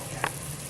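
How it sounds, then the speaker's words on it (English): Festival dumplings and bammy fry in hot oil, a steady low sizzle with one brief sharper crackle, close by and without speech. "So we have festival and Bammy frying over here right now"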